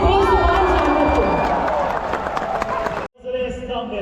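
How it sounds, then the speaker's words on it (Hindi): Crowd at the Attari Wagah Border Republic Day ceremony with BSF, loud cheering and applause forming a dense roar that cuts off abruptly near the end, with voices mixed in. "जरा जोरदार तालियां हो जाए हमारे इस बेजुबान जानवर को।"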